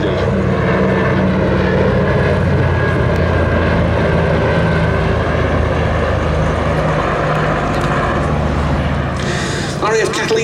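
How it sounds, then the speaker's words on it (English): A Canso A PBY-5A Catalina flying boat passes at an airshow with its wingtip floats extended, its piston propeller engines droning loudly and continuously close by, with a voice talking over the noise. "Here we see it coming past with the wingtip floats extended."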